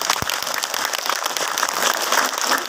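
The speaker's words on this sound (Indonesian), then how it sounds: "Tepuk tangan untuk santri." Audience applause for Quran students at a Sundanese religious sermon, a dense, sustained burst of many hands clapping, loud and close, starting with a sharp knock and building slightly.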